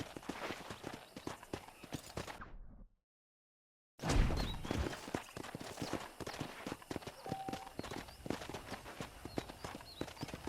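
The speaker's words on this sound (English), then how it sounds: "I picked out a fine horse for you. Giddy up!" Rhythmic horse hooves in the video game Red Dead Redemption clip-clop steadily at a trotting pace, close and clear, broken by a brief silence before resuming.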